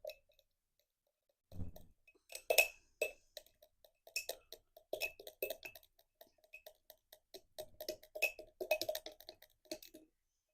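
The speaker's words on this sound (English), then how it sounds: "we're going to stir that up" Watercolor binder mixture being stirred in a small container, quiet clinking and ticking taps with light wet scraping, irregular and close, faint against near silence.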